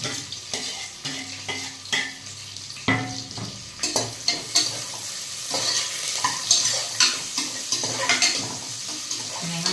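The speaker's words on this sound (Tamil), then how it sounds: "வந்து கறிவேப்பிலை, வெங்காயம் ஆட் பண்ணிக்கோங்க." Curry leaves and onion frying in oil, crackling sizzle with repeated spatula stirs and scrapes against the pan, close and clear with no talking.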